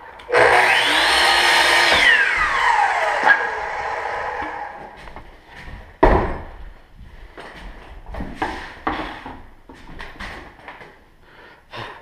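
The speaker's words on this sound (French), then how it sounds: "je le coupe avec la scie à onglet" A miter saw whines loudly as it spins up and cuts wood for a staircase, then winds down, followed by scattered clunks and knocks of handling wood.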